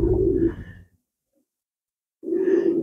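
A racing pigeon in a loft gives two low, throaty coos, each about a second long, close and clear, with a silent gap between them.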